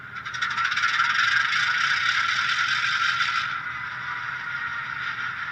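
Start-up sound of an Atlas genset model locomotive's sound system: a dense, hissing mechanical rush that holds steady for a few seconds and then drops to a quieter, continuous hum.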